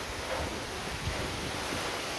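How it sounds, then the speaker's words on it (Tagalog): Steady, broad rushing wind of a strong typhoon (Typhoon Tino) roars without pause, dense and noisy, buffeting the microphone with low rumbles. "kusog na hangin"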